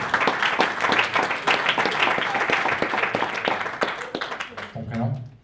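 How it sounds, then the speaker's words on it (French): An audience at a yoga talk claps for a volunteer, a burst of many hands with distinct sharp claps standing out, steady for several seconds and then tapering off as a voice begins near the end. "alors on l'applaudit"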